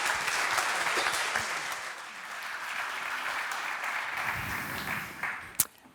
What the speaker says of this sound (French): on les accueille sur scène avec un tonnerre d'applaudissements encore une fois